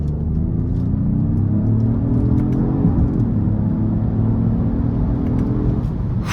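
A 2025 Genesis GV80 Coupe e-SC accelerating hard, heard from inside the cabin. A loud, steady engine and road rumble rises in pitch through the pull and eases slightly around a shift, with no talking.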